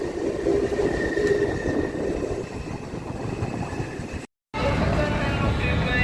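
A local train rumbles steadily along the rails, close and loud, with a brief squeal of wheels and a short dropout before the rolling noise resumes.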